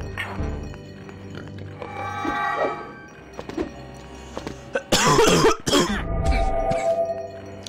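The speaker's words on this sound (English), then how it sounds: "Ah, I got a cough." A video game character coughs a few times, with harsh bursts and some throat clearing, among clattering thuds, close and fairly loud, in Lego Star Wars: The Complete Saga.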